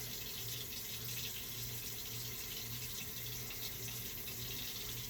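A tap runs continuously into a sink, a steady close hiss and splash holding level throughout with no voices.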